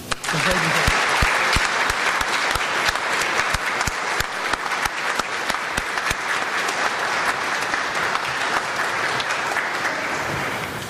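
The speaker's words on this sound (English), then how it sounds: "let's give these people a round of applause" Sustained audience applause at a Veterans Day soldier's tribute event, many hands clapping steadily and fairly loud for about eleven seconds, with a few sharper claps standing out.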